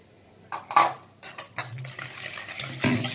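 Cookie batter made with baking powder and baking soda being stirred by hand for cookies baked in a pan, with close, irregular scraping and tapping strokes against the bowl and no talking.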